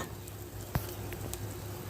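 Onions fry with salt and spices in a pan over a cooking stove, giving a steady close sizzle with one brief clink of a utensil partway through.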